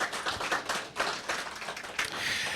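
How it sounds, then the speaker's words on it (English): People at a lecture gathering clap for the society's secretary and treasurer, producing a dense, steady patter of applause that fills the room for a couple of seconds, with no voices over it. "Give Kathy a round of applause."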